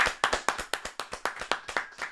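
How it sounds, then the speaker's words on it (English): A small group claps on a podcast, a round of applause of about nine quick, close, distinct claps in an even rhythm, with nobody talking. "can we get a round of applause, please?"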